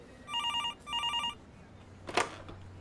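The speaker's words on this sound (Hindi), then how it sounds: "दूसरे दिन सुबह जब मैं ड्यूटी पर आया तो सबसे पहला फोन मुझे डीएसपी साहब का आया।" A telephone rings in two quick electronic bursts near the start, with a brief rustle afterward and no voices, set in a Hindi horror story about a police officer arriving for duty in a rural posting.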